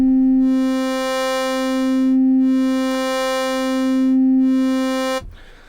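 Korg wavestate synthesizer playing its init performance: a single sustained bright buzzy tone with rich harmonics, its upper partials slowly swelling and fading in a steady cycle, loud and clean, then abruptly cut off.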